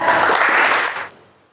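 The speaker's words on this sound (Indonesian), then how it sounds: "Tepuk tangan untuk Caca" Children applaud in a classroom, a short dense burst of clapping that stops abruptly and leaves a faint tail.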